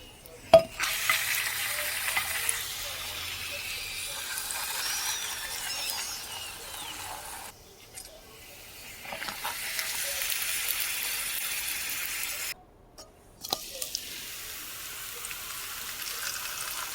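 Eggs crackle and sizzle in a hot pan for crispy bacon, egg and potato breakfast tacos, a steady close frying hiss broken by short pauses and a few scraping clicks from a turner.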